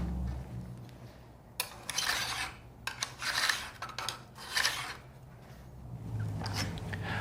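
A file rasping across the raker teeth of a 1904 Simonds crosscut saw, heard as several separate short scraping strokes, close and fairly quiet, with soft handling noise between them.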